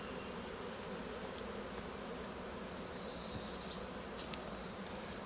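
Honeybees from a couple of different hives buzz on beehive frames during a hive merge, a dense, continuous drone that stays close and constant with no talking.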